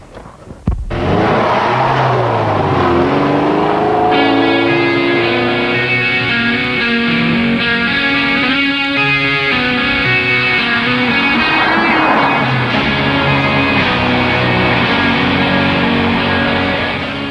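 A Lotus Esprit V8 engine revs hard, loud and close, its tone climbing and shifting through the revs in one continuous drone after a sharp start, with no talk.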